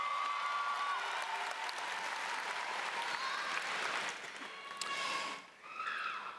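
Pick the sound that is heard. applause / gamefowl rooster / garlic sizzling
applause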